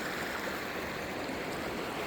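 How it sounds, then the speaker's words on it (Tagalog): Strong current of a clear, fairly deep creek rushing continuously over rocks beside a walking trail, a loud, steady broadband wash with no voices. "Oh, malakas yung tubig na yan."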